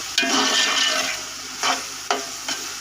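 Minced beef keema fries in a pot, a dense close sizzle punctuated by four sharp scraping stirs of a spoon.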